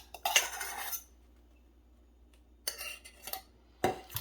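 Spinach salad with apples being tossed with a creamy Gorgonzola dressing, heard as a few short bursts of utensils scraping and clinking against a bowl, separated by quiet pauses.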